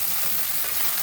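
Onions lightly frying in a pan for a rice dish, a soft, even, continuous sizzle heard up close and alone.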